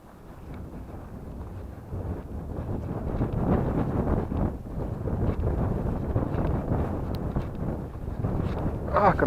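Strong gusting wind of about 9.5 m/s blows while someone fishes for perch with a spinning rod outdoors. A continuous loud rumble buffets the microphone and swells throughout, with no one talking.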